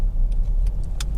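Honda Jazz 1.2 SE five-door hatchback driving along a road, steady low engine and road rumble heard from inside the cabin, with a few faint light ticks as it passes over bumps.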